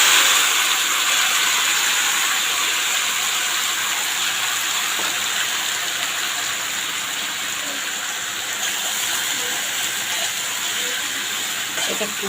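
Small raw fish tipped into hot oil in a wok, crackling in a dense, loud, steady sizzle that holds without a break, with no voice over it.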